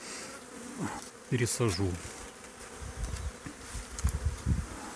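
A honeybee swarm buzzing around beehives, a hum of many insects behind someone speaking Russian, with some louder buzzing passes of bees flying near.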